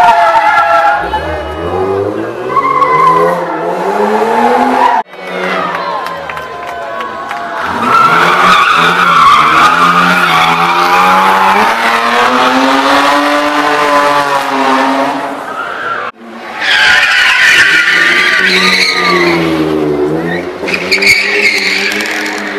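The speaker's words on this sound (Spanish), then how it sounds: "con el ruido de los coches" Cars at an urban street race skid and rev hard, with long rising and falling engine tones, squealing tyres and brief gaps between runs, loud and close with a crowd faintly behind.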